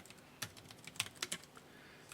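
Quiet computer keyboard typing while entering data in an Excel spreadsheet, a handful of light, irregular key clicks close by with no talking.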